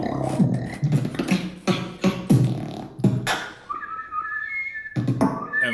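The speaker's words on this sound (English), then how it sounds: "He whistles like a normal person." A person whistles a tune with pursed lips, bursts of whistling separated by short pauses, with a brief steady sustained tone partway through; fairly loud and close.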